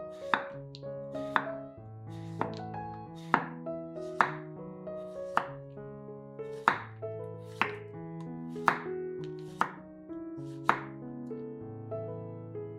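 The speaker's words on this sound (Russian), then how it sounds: "Один цукини нарезаем кружочками или полукружочками." A knife slices a zucchini into rounds for pizza, with a dozen or so crisp, evenly paced chops against the board over continuous background music.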